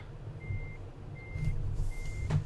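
Truck backing in within Euro Truck Simulator 2, three evenly spaced reversing beeps over a low engine rumble, with a short air hiss near the end and no voices.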